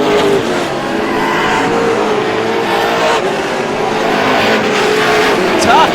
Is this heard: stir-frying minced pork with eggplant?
no